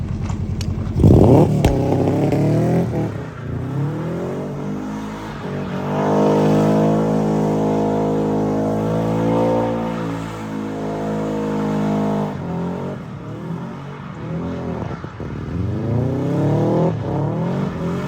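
A mid-engine Honda EK Civic drift car revs hard, its engine holding a loud sustained buzzing tone that drops and surges as the fuel cuts out and returns, heard close up without talk.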